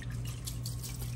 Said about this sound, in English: you put the water in proportion to the rice, and I think I need to put just a little bit more right there